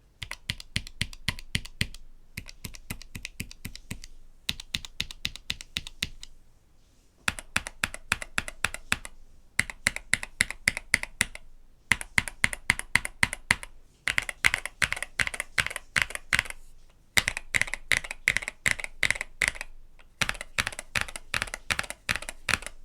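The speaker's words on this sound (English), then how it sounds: "I will show you how the keyboard sounds with these 3 different options" Bursts of rapid typing on an Epomaker Galaxy X mechanical keyboard with three different switch types, including Budgerigar switches; crisp clacky keystrokes in several separate runs with short pauses between, close and fairly loud, switching tone between runs.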